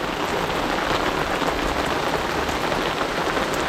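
Steady rain pours down during a boat haul-out, a dense, even hiss of drops hitting a surface, loud and close with nothing else heard.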